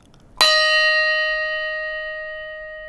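A single bright bell strike from a set of handbells rings out sharply, then its clear metallic tones hang and slowly fade across the remaining seconds, alone with no voices.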